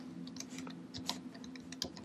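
Code being typed on a computer keyboard, a quick irregular run of light key clicks with a few sharper taps, close and quiet over a low steady hum, with no talking.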